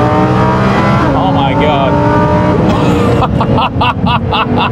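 A Lamborghini Huracan Performante engine roars loudly as it accelerates, its rising harmonic sweeps climbing through gear changes, with excited voices talking over it.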